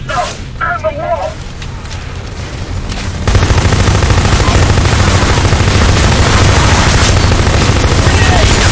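Gunfire during a Section 8 firefight while hostile infantry close in on a defended wall: the din thickens sharply after about three seconds into continuous, loud, dense automatic fire and blasts, with a game voice calling out over the early part.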